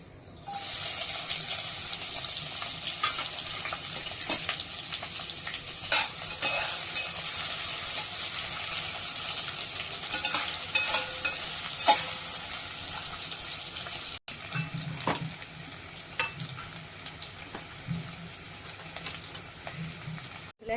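Onion and garam masala fry in hot oil in a pan for Kolhapuri-style masala rice, a long continuous sizzle with scattered clinks and scrapes of stirring, briefly quieter near the end.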